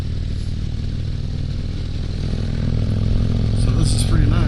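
2022 Harley-Davidson Street Glide Special with a loud muffler, its engine rumbling low and steady up close and swelling louder toward the end.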